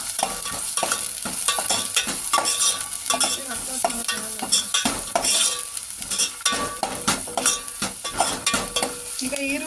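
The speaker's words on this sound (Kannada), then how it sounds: "ಈಗ ಎಣ್ಣೆ ಬಿಸಿಯಾಗಿದೆ ಈಗ ಕಟ್ ಮಾಡಿರೋಂಥ ಈರುಳ್ಳಿನ ಸೇರಿಸ್ಕೊತಾ ಇದ್ದೀನಿ ಮತ್ತು ಕರಿಬೇವಿನ ಸೊಪ್ಪನ್ನು ಸೇರಿಸ್ಕೊತಾ ಇದ್ದೀನಿ ಈಗ ಇದನ್ನೆಲ್ಲ ಮಿಕ್ಸ್ ಮಾಡ್ಕೊಳ್ಳೋಣ" Chopped onions and curry leaves sizzle and fry in hot oil while being stirred, with a steady crackle and frequent scraping and clinking of a utensil against the pan, close up.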